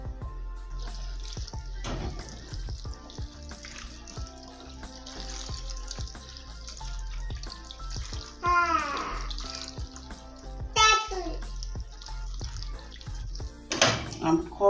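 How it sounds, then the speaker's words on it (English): Hot water pours and trickles into a pot while a Ghanaian plantain meal is cooked outdoors in a village, with splashing and dripping bursts alongside clinks and handling sounds. "This is hot water."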